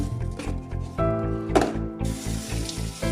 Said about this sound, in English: Washing the strawberries with cold water.